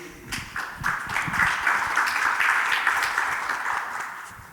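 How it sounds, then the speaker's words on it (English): Applause from the audience at a circular-economy agriculture panel, a moderate steady clapping that swells after a brief start and holds, with a faint voice at the outset. "Lovely round of applause for him, please"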